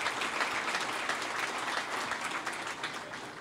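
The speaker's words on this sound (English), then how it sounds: "You can clap, it's all right." Dense, steady applause fills a hall during a city's State of the City speech event, loud and continuous with no talking over it.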